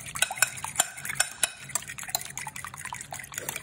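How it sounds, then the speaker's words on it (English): Quick, busy clicking and tapping of a whisk against a bowl while mixing corn cake batter ingredients, close and moderately quiet with a light wet edge. "So just whisk these two together real well."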